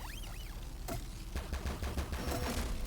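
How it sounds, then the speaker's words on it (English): Gunfire from a sniper in PUNK, an open-world bullet-hell roguelike game: a sharp single shot, then a quick run of crisp, punchy reports that stay close and loud over low game ambience. "Sniped me from afar."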